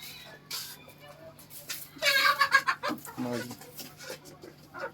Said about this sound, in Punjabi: ਲਿਆਓ ਲਿਆਓ ਸਾਰੀਆਂ ਮੁਰਗੀਆਂ ਦਾਣਾ ਖਾਣ ਲਓ ਜੀ